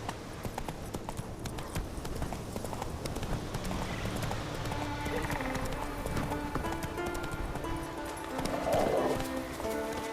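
Roach, the horse in The Witcher 3, gallops with a steady, rhythmic clip-clop of hooves. The hoofbeats sound close and continuous, with background game sounds and a brief voice mixed in.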